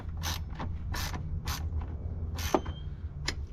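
Repeated ratcheting bursts as a wrench tightens the nut on the red positive battery terminal while a light bar is wired in behind the grille of a 2021-2023 Chevrolet Colorado, loud and close with short pauses between strokes.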